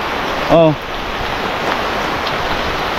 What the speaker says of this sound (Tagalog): ang lakas ng ulan na